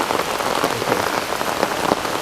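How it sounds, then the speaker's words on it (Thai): Heavy rain pouring in the hills of Chiang Rai, Thailand, a dense, steady hiss of drops hitting surfaces, loud and continuous throughout with no voices. "เพราะฝนตกหนักมากเลย"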